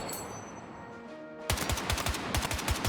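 A heavy-recoil gun in a video game fires a rapid burst of loud, evenly spaced shots that suddenly break a quiet hum, with a short pause before a final cluster of rounds.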